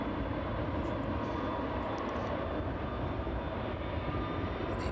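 A large aircraft rolling off runway 27 at East Midlands Airport, heard as a steady, broad jet engine roar from a moderate distance that holds at an even loudness throughout, with no voices.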